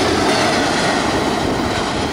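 A CSX freight train rolls past close by, a loud, steady roar of wheels and cars on the track with faint clickety-clack.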